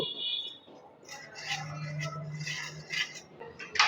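A utensil stirring dry sugar in a metal pan for roll pitha gives faint, scattered clinks and scrapes, with a few brighter knocks near the end.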